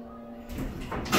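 Elevator doors slide open or shut in a department store, a short soft rumbling whoosh that swells near the end, close by and alone.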